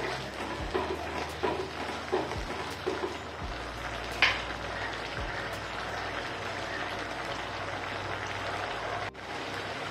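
Masala for rajma sautéing in oil in a pan, a steady broadband sizzle running throughout with a few soft stirring knocks, fairly close and without speech.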